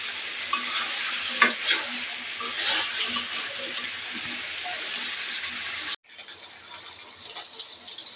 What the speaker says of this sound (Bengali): আমি ডিমের কোরমাটার মশলাটা কষাচ্ছি, পেঁয়াজ বাটা, একটু কাঁচামরিচ, পেঁয়াজ বাটা, একটু রসুন